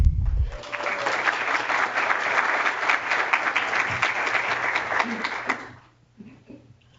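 Sustained audience applause welcoming a guest speaker at internal medicine grand rounds in a hospital auditorium, a dense wash of clapping for about six seconds before tapering off into quiet room tone.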